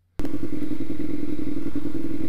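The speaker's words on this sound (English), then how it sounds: "I'm on a 2009 Ducati Monster 696" A 2009 Ducati Monster 696 motorcycle engine thrums loudly and close, a steady throbbing exhaust note with rattling and wind noise as the bike rides along.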